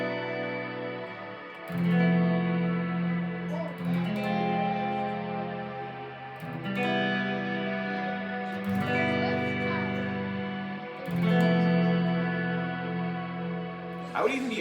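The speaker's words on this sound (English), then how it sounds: "He hits it once and just like lets it go." A rich, effected synth chord rings out and sustains, with a few chord changes and bright swells layered with chorus and echo, no voices present.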